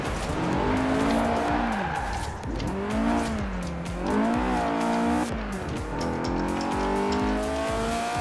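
A Lamborghini Aventador drifts on ice in Forza Horizon 4, its engine revving in rising and falling sweeps as tires squeal through a long slide, loud and continuous from start to finish.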